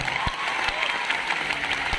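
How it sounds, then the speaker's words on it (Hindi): A seminar audience claps steadily, a dense burst of applause lasting a couple of seconds. "सर इसका ना एक बार तालियां हो जाए इस बात के ऊपर।"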